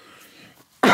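A single sharp cough bursts out loud at the end, after a stretch of faint background hum.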